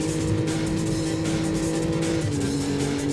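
A Ferrari racing in the PlayStation game Need for Speed: Road Challenge, its engine droning at a sustained high pitch that shifts as it changes gear, loud and continuous with tyre noise underneath.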